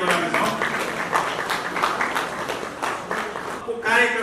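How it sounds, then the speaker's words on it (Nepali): Guests at a Nepali Christian wedding clap together in a lively burst of applause while a voice speaks over it, with the clapping swelling again near the end. "हामी सबैलाई ताली बजाउने छौ"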